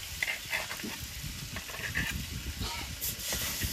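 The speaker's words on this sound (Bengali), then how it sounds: "এরপর বেটে রাখা কাঁচা লঙ্কা শুকনো লঙ্কাটা দিয়ে দেবো।" Ground green and dried chili paste going into fried potato and taro in a pan: a steady sizzle with scraping and stirring noises, close and moderately loud, with no talking.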